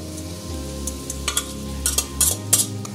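Mutton being stir-fried for Bengali kosha after pressure cooking, with a spatula scraping and stirring through a low, steady sizzle and a few sharp metallic clinks toward the end.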